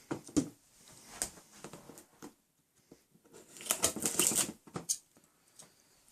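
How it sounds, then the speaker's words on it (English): A cardboard box for a Hoover Purepower PU71/PU01 vacuum is cut open, giving scattered close scrapes, tears and taps, with a denser burst of rustling slicing near the end. "So let's cut into this box here."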